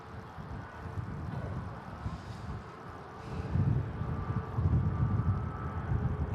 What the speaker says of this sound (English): It's pretty windy today as well.